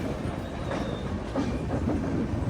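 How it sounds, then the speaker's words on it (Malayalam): A long-distance express train rolls into Nagpur Junction railway station in Maharashtra, its wheels giving a steady, close rumble with rhythmic clickety-clack over the rail joints and faint squeal. "ട്രെയിൻ ഇതാ മഹാരാഷ്ട്രയിലെ നാഗ്പൂർ ജംഗ്ഷൻ റെയിൽവേ സ്റ്റേഷനിലേക്ക് എത്തിക്കൊണ്ടിരിക്കുകയാണ്"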